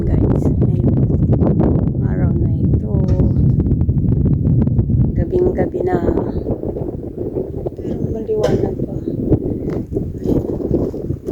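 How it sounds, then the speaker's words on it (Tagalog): Strong wind buffets the microphone with a heavy, gusting low roar while a person talks through it. "Napakalakas ng hangin."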